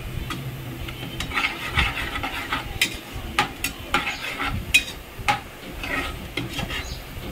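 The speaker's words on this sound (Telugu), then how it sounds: "ఒక కుక్కర్లో నూనె వేసుకొని అందులో ఉల్లిపాయ ముక్కల్ని వేసి ఎర్రగా ఫ్రై చేసుకోవాలండి" Onion pieces frying in oil inside a pressure cooker, with steady close sizzling broken by repeated scrapes and stirring clinks of a utensil against the metal pot.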